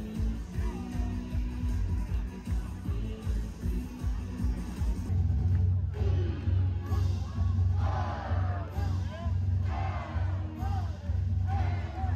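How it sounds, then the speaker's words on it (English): Rowdy basketball arena crowd at a Tennessee men's game, a dense, loud roar of cheering and whooping voices that swells and surges continuously throughout, with shouts rising out of the mass. "When the crowd was nice and rowdied up"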